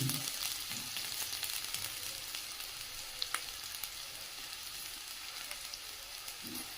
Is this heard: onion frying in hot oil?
yes